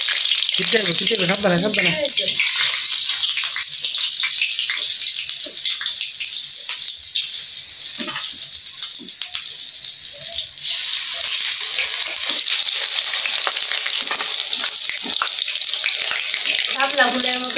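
Water lily flower fritters frying in oil: a continuous close bubbling sizzle with splashes and stirring clatter, while a voice talks briefly over it.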